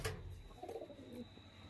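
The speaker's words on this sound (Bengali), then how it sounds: "কোন পায়রা উড়ে উড়ে গিয়ে ওখানে বসছে" Pigeons coo softly at a distance in a quiet loft setting, a few low, brief calls spread across a short stretch with faint background noise.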